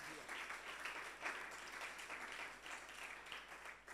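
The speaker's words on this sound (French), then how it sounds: "vous pouvez vous applaudir" A church congregation applauds in a steady, fairly distant burst of clapping lasting several seconds, evenly dense with slight swells, quiet overall and with no one speaking over it.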